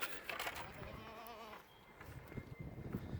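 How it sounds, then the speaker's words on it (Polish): Goats bleating outdoors: one wavering bleat stands out midway over faint background rustle, fairly quiet and somewhat distant. "To są kozy."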